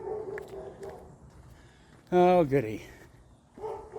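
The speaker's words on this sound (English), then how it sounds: "The neighbor across the street has their barky dog out that just likes to bark at everything." A neighbor's dog barks across the street in a single loud burst of barking, with a person talking before and after it.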